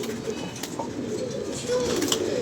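Pigeons coo repeatedly in soft, rounded, low phrases against a steady background hum, several birds overlapping at close range.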